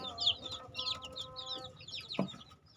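Repeated short, high-pitched cheeps from several small chicken chicks, rapid and overlapping, with soft clucking and rustling underneath.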